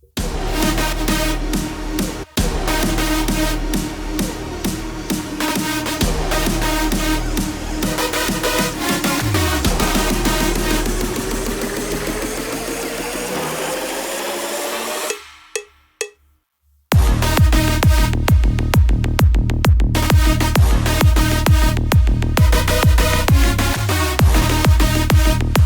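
A big room psytrance build-up made in FL Studio 20 plays loud and dense, with a rising sweep and a driving sidechained pulse, then a brief near-silent break before the full beat crashes back in.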